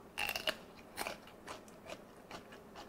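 Grilled beef tripe crunches between the teeth in a few faint, crisp bites, one louder crunch first and then softer chewing, heard close with no talk.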